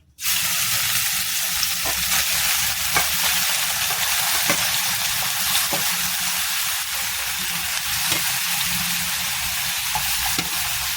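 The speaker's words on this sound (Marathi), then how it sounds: "तूप आता चांगल्या प्रकारे गरम झालेलं आहे, त्यामुळे आम्ही आता गाजर घालणार आहे" Grated carrots frying in hot ghee for gajar ka halwa give a loud, steady close sizzle and hiss, with occasional light scraping taps from stirring throughout.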